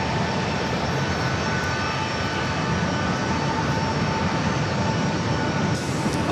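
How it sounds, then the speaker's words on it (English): Steady broadband jet roar from an Alaska Airlines Boeing 737-800 departing San Diego for Kona, loud and continuous for the whole stretch with no voices over it. "Of course, we'll also see that take off."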